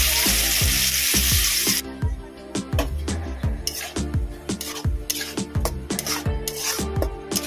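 Spice and onion paste hits hot oil for Hyderabadi masala chicken, giving a loud broadband sizzle that gives way to rhythmic scraping strokes of a spoon stirring in the pan, close and alone.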